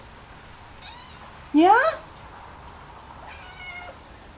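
Several cats meowing as they roam around a table indoors, one loud rising meow in the middle with fainter meows before and after, and a person speaking briefly.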